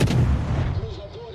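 A single heavy naval cannon shot fires in a warship video game, a loud close boom that rumbles and fades over about a second.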